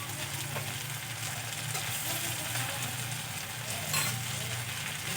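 Beaten egg stirred into leftover-rice vegetable fried rice in a hot pan: a steady, close sizzle and frying hiss with soft stirring scrapes running throughout, without any talk.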